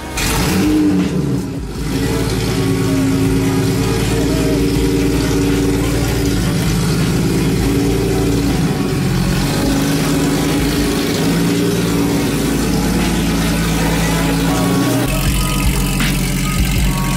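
A car engine runs loudly and steadily throughout, with a brief surge near the start and a dense, rumbling tone that settles into a sustained idle, close by with no talk.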